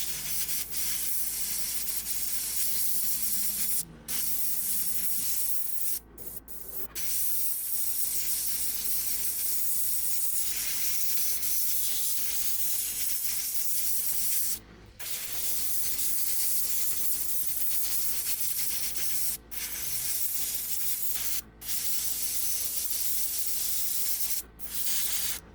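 An aerosol can sprays paint onto a customized Hot Wheels Land Rover model, a close steady hiss held in long bursts with several brief pauses, and no speech.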